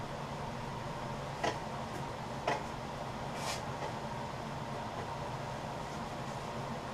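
A wood lathe hums steadily while turning a live edge bowl, with a few faint, sparse ticks as the bark corner catches against the tool rest, all close and under a constant motor drone.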